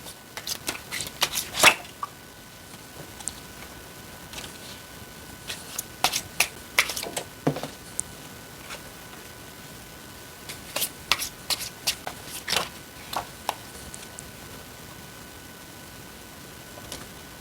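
Tarot cards being shuffled by hand, in repeated short bursts of crisp riffling and slapping, close and fairly quiet, with pauses between bursts and no talking.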